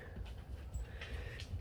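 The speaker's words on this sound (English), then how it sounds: "If you hear any noise, that's my dogs in the background." Dogs pant and whimper softly in the background near a greenhouse, producing faint breathy huffs and a brief thin whine that stay low and distant.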